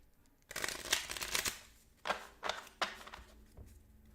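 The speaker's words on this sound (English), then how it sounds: "So we're going to shuffle up the mission deck." A mission card deck for the post-apocalyptic board game Fallen Land is shuffled by hand in close, quiet riffles: a long burst of papery ruffling, then three shorter flicks and a soft tap, with no talking.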